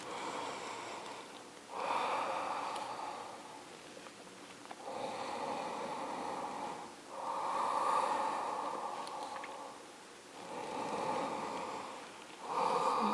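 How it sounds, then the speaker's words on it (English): Slow, deep breaths taken during a seated forward fold in a vinyasa yoga flow, close and audible as several long, rhythmic inhale-exhale cycles with short pauses between them, no talking. "Let's take 3 deep breaths."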